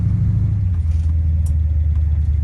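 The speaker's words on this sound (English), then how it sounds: "You can drive this thing all day. Over bumps." A 1963 Chevrolet Impala driving over bumps, giving a loud, steady low engine and road rumble inside the cabin with a few faint thumps and rattles.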